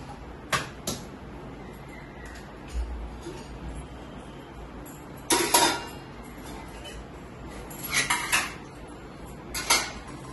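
Metal pots, plates and utensils clatter and clink in scattered bursts during washing-up at home, with quiet gaps of running background noise between the clashes; no voices.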